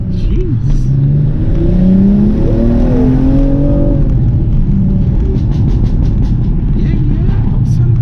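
Stage 2 tuned BMW M235i revving hard with exhaust bangs and pops, a loud constant engine roar with rising and falling pitch, while people talk over it.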